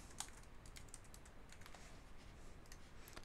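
Steady, fairly quiet typing on a computer keyboard, a quick run of light key clicks with a few sharper taps, heard alone with no talking.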